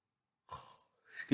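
A person who has just woken up yawns close by: a soft breathy intake, a pause, then a louder voiced, drawn-out exhale.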